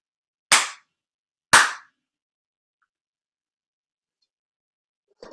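Students in a classroom clap their hands, two sharp, loud claps about a second apart, then silence and a faint, softer sound at the very end.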